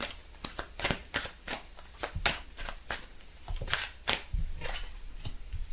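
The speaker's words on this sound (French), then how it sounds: "Je vais tirer quelques cartes de celui-ci pour voir par rapport à l'amour." Tarot cards being shuffled by hand close up, a quick run of crisp flicks and slaps that comes in uneven bursts throughout.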